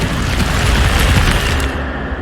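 Incendio fire spell blast in Hogwarts Legacy, a loud, dense roaring burst of flame that holds steady for about two seconds, then thins slightly toward the end.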